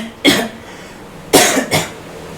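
Three sharp coughs from a man, close and loud, with short gaps, the last two in quick succession.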